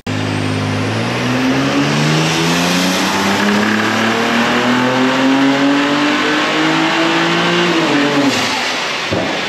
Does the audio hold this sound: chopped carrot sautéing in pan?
no